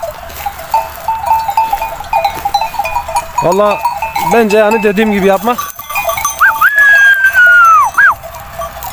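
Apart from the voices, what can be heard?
goats and sheep bleating, native goat buck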